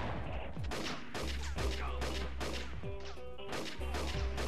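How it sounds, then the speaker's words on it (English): Sniper gunshots from the Army Men Sarge's Heroes 2 video game crack out as a rapid series of sharp, loud bangs and crashes, several in quick succession, with game sounds between them. "sharp gunshot noise"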